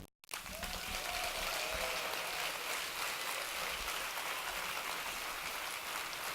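An audience at a benefit night of film and music breaks into a steady, full round of applause for a bassist, starting abruptly after a short pause and holding at an even level.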